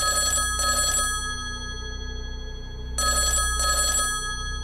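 A telephone bell rings in a house at night in two short double bursts separated by a long pause, loud and close, with no other sounds.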